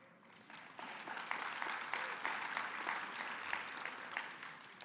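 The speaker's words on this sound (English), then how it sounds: "you clapped, it almost covered it up" An audience breaks into applause, a swell of many hands clapping that rises quickly and then holds at a fairly soft, steady level for several seconds.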